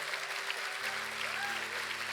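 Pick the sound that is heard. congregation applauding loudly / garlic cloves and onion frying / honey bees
congregation applauding loudly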